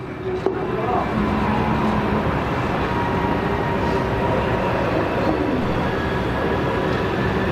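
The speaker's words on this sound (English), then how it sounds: "just as the train arrives" A train arrives as a radio show sound effect, a loud, continuous rumble of rolling cars and rail noise that holds steady throughout.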